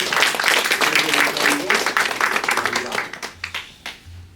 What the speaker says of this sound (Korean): 우선 박수를 좀 부탁드립니다.